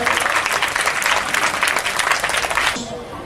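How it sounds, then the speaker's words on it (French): An audience applauds loudly at a charity solidarity gathering on a Saturday morning, dense steady clapping filling nearly three seconds before cutting off abruptly. "On applaudit très fort, s'il vous plaît."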